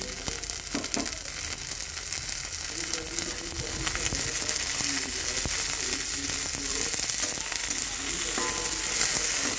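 Curry leaves and sprouted chickpeas frying in a pan give a continuous loud sizzle and crackle, with occasional stirring scrapes and no voices.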